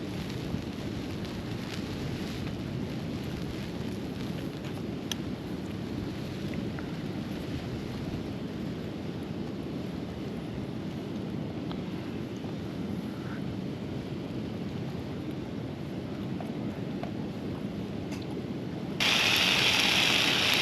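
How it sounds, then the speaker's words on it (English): Gale-force wind and heavy rain batter a tent on a wet, windy wild camp, a dense, steady roar of gusts and pattering drops heard from inside, continuous throughout and growing slightly harsher in the last couple of seconds. "it's blowing a gale out there and the rain's coming down"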